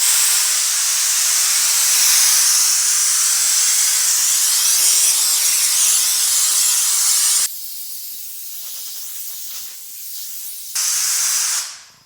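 Compressed air blasts steadily off the underside of a 1950 Chevy truck hood before painting. The loud, continuous hiss drops to a softer spray partway through, surges again briefly, then cuts off.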